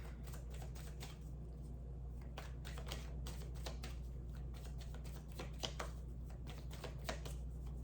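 Tarot cards being shuffled and drawn: a dense run of crisp, rapid riffling clicks and snaps, close and fairly quiet over a low steady hum, with a few sharper flicks near the end and no talking.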